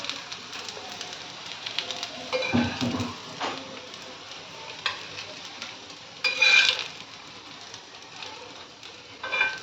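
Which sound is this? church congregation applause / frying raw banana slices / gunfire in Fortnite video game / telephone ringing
frying raw banana slices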